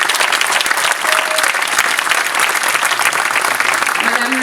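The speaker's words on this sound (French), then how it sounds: "je vous demande d'applaudir chaleureusement l'engagement de Nicole pour notre ville" A town ceremony audience in Nilvange applauds warmly to honour a resident, a loud, dense, continuous clapping that fills the room throughout, with a few faint voices underneath.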